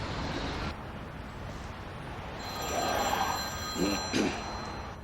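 A telephone rings in an indoor scene, its repeated electronic ring standing out over a low hum and faint background noise, with no one speaking.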